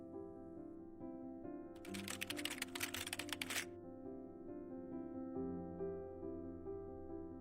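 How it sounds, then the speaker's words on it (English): Password being typed on a computer keyboard: a dense two-second burst of rapid key clicks rises over steady background music, then stops while the music carries on. "Let's type a password"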